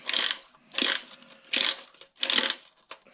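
Spring of a First Strike T15 magazine being wound back in four separate bursts of close, dry ratcheting clicks, each about half a second long with short pauses between.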